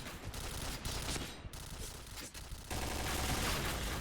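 Dense, loud bursts of gunfire from the online shooter Point Blank fill the clip continuously, with a brief dip near the middle before an even heavier volley resumes.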